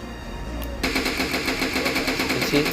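SLR rifle fire in a shooter video game, a fast regular string of sharp shots that starts abruptly and keeps a steady rapid-fire rhythm, loud and close.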